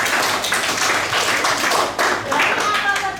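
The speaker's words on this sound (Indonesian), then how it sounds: "tepuk tangan untuk semuanya" A room full of people clapping in a steady, dense patter that rises and dips, with some voices under the applause.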